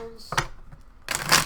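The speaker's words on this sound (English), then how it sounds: "2 more shuffles." Tarot cards shuffled by hand during a reading, two quick riffling bursts close by, the second longer and brighter, separated by a short pause.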